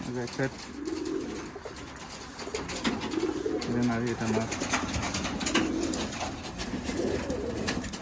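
Black Giribaj pigeons at a pigeon farm in Rajshahi give repeated low, throaty coos close by, while people talk over the birds throughout.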